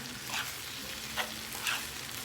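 Eggs and noodles frying in a pan give a continuous close sizzle, broken by three short scraping stir strokes spaced through it, with no talking.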